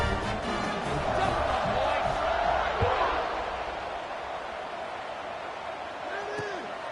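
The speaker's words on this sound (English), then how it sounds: "this crowd is buzzing after that last score" Football stadium crowd at a Baylor game buzzing after a touchdown, a broad steady roar that swells then settles slightly lower, with a commentator talking over it.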